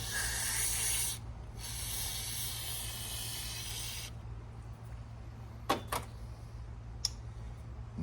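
Carburetor choke cleaner sprayed from an aerosol can in two loud hissing bursts, the first about a second and the second about three seconds, followed by quieter ambience and a few faint clicks.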